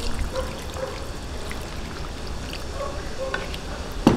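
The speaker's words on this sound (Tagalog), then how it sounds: "Sabawan po natin ng bahagya." Water poured into a pot of stewing beef for mechado, a steady splashing trickle that runs the whole time, with a brief louder knock near the end.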